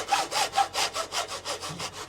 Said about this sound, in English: The hacksaw's bloody beauty.